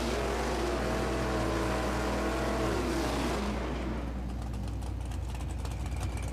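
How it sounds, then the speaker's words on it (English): A 1968 Chevrolet Camaro stick-shift drag car roars loud and close at the strip, its engine climbing through harmonics before the note drops and breaks into a harsh, crackling rasp as it pulls away. "That 68 Camaro, boy, that thing just sounds violent."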